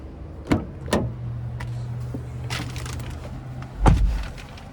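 Someone climbs into the driver's seat of a 2022 Hyundai Tucson Hybrid SEL: close, sharp clicks and handling knocks, a faint steady hum, then a solid door thud near the end in a quiet cabin.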